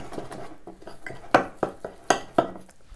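A spoon stirs a homemade Halloween makeup paste of oil and colorant in a bowl, giving repeated close clinks and scrapes in an irregular rhythm.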